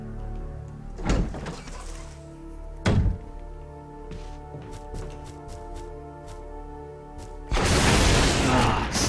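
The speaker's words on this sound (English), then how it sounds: "I'm gonna kill the spiders with the rocket launcher." Rocket launcher fire against spiders in a Resident Evil game: two heavy, deep thumping launches spaced apart, then scattered clicks and a loud rushing explosion near the end, with game ambience humming underneath.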